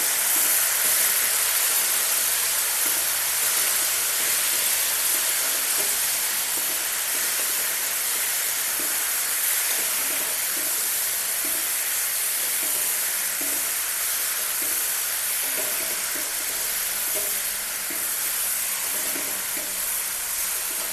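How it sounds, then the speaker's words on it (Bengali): Ginger and cumin paste sizzles in a hot pan while it is stirred, a steady broad frying hiss with faint scraping movement continuing evenly, no voices over it. "আদা বাটা, জিরা বাটা। এখন একটু নেড়ে নেব।"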